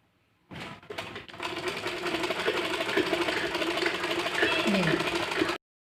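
A sewing machine runs a seam along a marked line on a kurta, starting abruptly and holding a steady, loud, rapid chatter for several seconds before stopping sharply.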